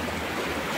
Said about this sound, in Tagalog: Ang lakas pa ng alon, ano?